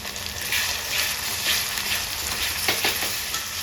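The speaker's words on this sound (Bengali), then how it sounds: "এবং অবস্থায় আমি দিয়ে দেবো আদা রসুন বাটার পেস্ট।" Ginger-garlic paste sizzles and hisses in hot oil among frying onions for a chicken and potato curry, a steady close crackle with a few soft stirring scrapes and no talking.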